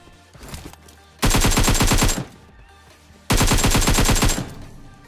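AKM assault rifle fitted with a 4x scope firing in a battle-royale shooter game, two loud sustained bursts of rapid automatic fire, each about a second long, separated by a short pause.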